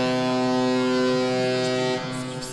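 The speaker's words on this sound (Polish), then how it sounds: "Syrena statkowa, tak to można powiedzieć, rozpoczęła trzecie spotkanie tego turnieju" A ship's siren sounds to start a charity football match, a loud sustained horn tone holding steady for about two seconds before cutting off, leaving a lower fading tail and faint crowd noise.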